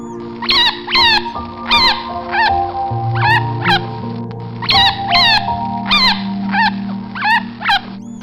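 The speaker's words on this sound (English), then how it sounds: "chinchilla" A chinchilla makes repeated sharp, squeaky chirps and barks in quick clusters, close and fairly loud, over a soft sustained musical backing.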